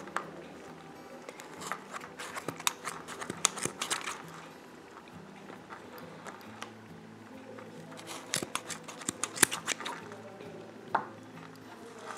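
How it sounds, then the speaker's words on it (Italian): Scissors snip yarn ends on a crochet amigurumi Santa Claus, a series of quiet close clicks and cuts in irregular clusters, with soft handling rustles between them. "inserite le forbici lateralmente e andate a tagliare"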